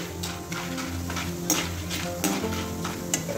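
Sliced tapioca frying with masala and salt while being stirred in a small pan gives a steady close sizzle, with a few sharper scrapes and clinks of the spoon against the pan.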